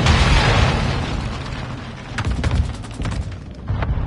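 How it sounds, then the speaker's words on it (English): Mortar strike explosions in a ground-war military video game land as a series of heavy booming blasts with deep rumbling tails, loud and close, one after another. "Our mortar strike is inbound."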